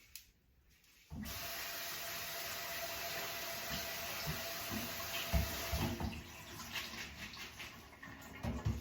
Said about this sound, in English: Okay, so I'm just gonna quickly rinse.